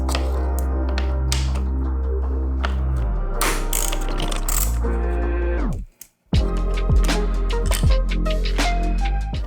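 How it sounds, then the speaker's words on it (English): A wrench ratchets on a bolt of a Kawasaki ZX-10R motorcycle during ram air flap removal, giving steady close clicking runs through most of the clip, broken by a brief silent gap near the middle. "I can't directly go onto that bolt, so I have to go get a wrench"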